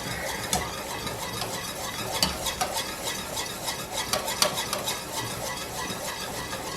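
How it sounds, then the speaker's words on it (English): A spoon stirs grape jelly made from Welch's grape juice as it boils and foams in a pot. Irregular scraping strokes sound over a steady bubbling hiss at close range, with no talking. "But I'll just keep stirring, and hopefully the foam will not overflow the pot"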